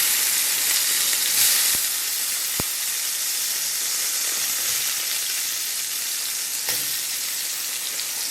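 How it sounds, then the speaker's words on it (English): Tomatoes frying in a pan for an Iranian meat and eggplant stew, a loud steady sizzle and hiss up close with a couple of sharp clicks, no talking. "we're going to start frying the tomatoes"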